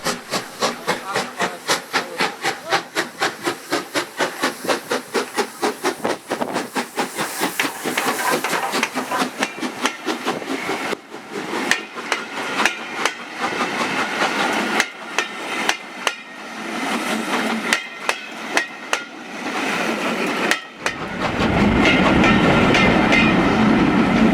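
Steam locomotive 1744 on the Great Central Railway pulls a local passenger train out of Quorn & Woodhouse, starting with rapid, loud, rhythmic exhaust chuffs. Later come irregular clanks and a steady roar of steam and rolling wheels.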